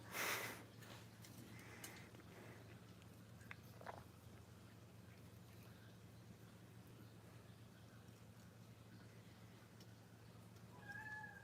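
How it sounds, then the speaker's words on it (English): A cat meows briefly at the start and again near the end, faint against a steady low background hum, with no talking. "I like how whenever Maverick meows, we're like, yeah, we know Maverick."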